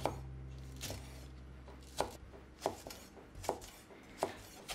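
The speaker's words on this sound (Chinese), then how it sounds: "青龙椒斜切成片" Knife slicing green dragon chili peppers on a cutting board at an angle, several sharp chops spaced unevenly over a steady low kitchen hum, close and clear.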